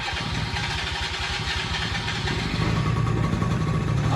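A four-wheeler ATV engine under rebuild starts and settles into a running idle, close and steady, with rapid low chugging pulses that build slightly louder toward the end.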